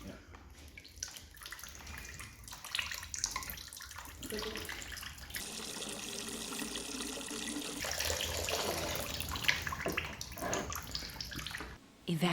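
A steady stream of poured water runs continuously at close range, splashing and gurgling for several seconds, then stops abruptly near the end.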